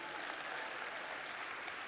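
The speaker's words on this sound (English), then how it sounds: "Can we please give a round of applause?" An audience at a Forbes Woman Africa panel event applauding, a dense, steady wash of clapping heard from a moderate distance for a couple of seconds.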